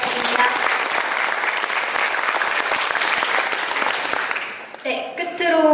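Audience at a university piano club's annual concert applauds steadily, a dense even wash of many hands clapping, before a voice starts speaking near the end.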